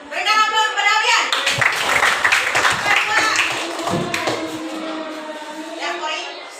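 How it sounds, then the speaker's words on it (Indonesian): Children in a classroom clap for a classmate, a scattered round of hand claps heard under an adult's voice and other speaking. "Berikan aplaus pada Abian"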